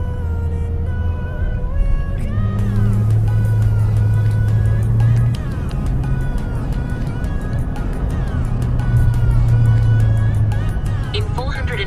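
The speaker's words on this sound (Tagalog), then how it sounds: "Another tram." City traffic and a passing tram on Collins Street in Melbourne, a steady low rumble with rising and falling engine tones and occasional high squeals, close by and continuous under intermittent talking.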